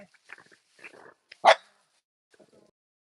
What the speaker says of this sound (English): I think there's a dog in the hillside there that's chasing a deer.